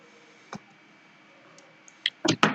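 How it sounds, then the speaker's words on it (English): A few scattered key clicks on a computer keyboard against quiet, building into a quick cluster of louder taps at the end. "I'm just typing"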